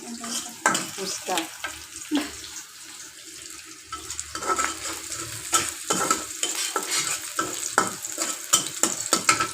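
Onions frying in a pan at home, a steady sizzle broken by irregular stirring scrapes and clinks of a spoon against the pan, fairly close, with occasional water-like splashes and kitchen clatter.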